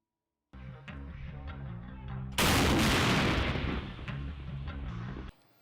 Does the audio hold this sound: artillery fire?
yes